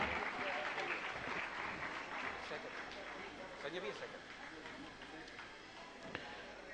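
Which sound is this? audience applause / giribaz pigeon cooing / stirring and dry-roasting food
audience applause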